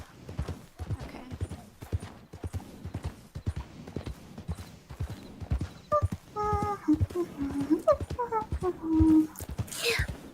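Horse clip-clopping with uneven hoof beats, later joined by a high whinny-like call and a short sharp cry near the end; voices murmur softly in the background.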